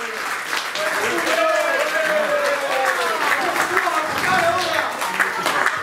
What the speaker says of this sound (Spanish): Fuerte aplauso para Julio, un gran colaborador de club real